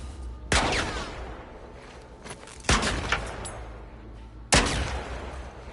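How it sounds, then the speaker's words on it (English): Bursts of gunfire in a shooting video game, three loud volleys roughly two seconds apart, each sharp onset trailing off into echoing decay. "Stop shooting me, please."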